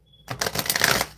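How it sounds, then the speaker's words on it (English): Tarot cards are shuffled in a quick burst of rapid riffling flutters, close and crisp, lasting about a second. "Let me get a good shuffle."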